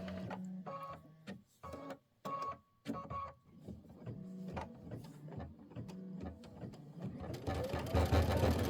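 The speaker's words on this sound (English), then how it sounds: "just stitching it out with the rock navy." An embroidery machine stitches a Kimberbell star-spangled quilt block in rock navy thread, its rapid mechanical chatter coming in bursts separated by brief pauses, then running more continuously and building toward the end, close by.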